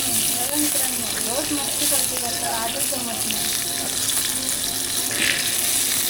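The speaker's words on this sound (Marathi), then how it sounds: "आपले बांगडे फ्राय घातले आहेत" Bangda (mackerel) fish frying on a pan makes a loud, constant sizzle close by, with voices talking over it and some water-like noise.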